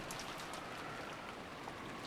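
Rain falling over a rose garden in the Umineko visual novel game, a soft, steady hiss of drops and patter that stays even and continuous throughout.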